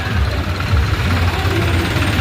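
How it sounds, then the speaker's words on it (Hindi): Several tractor engines rumble with a steady, loud low drone at a village tractor rally on Independence Day, continuous throughout with a busy outdoor crowd around. "देखिए पूरा ट्रैक्टर का रैली है यहाँ।"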